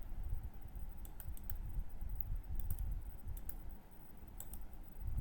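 Computer mouse clicking at a desk while assigning materials in Blender: small sharp clicks in short clusters, some in quick doubles, over a steady low hum.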